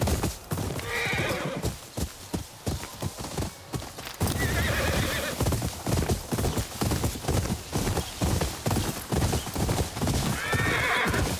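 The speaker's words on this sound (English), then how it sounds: "Are we gonna follow this horse?" Horse in the game Ghost of Yotei, hooves clopping in a fast galloping rhythm with a couple of neighs, close and loud over ambient game sound.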